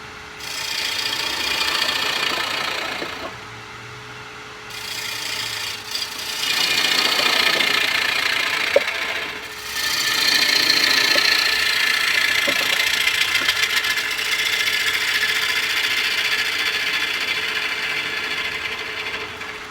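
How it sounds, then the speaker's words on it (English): Bowl being hollowed on a woodturning lathe with a 3/4 inch Carter and Son bowl gouge, giving a continuous rough scraping hiss over the lathe's motor hum that swells and eases as the cuts come and go. "I began hollowing it out with the 3/4 inch Carter and Son bowl gouge,"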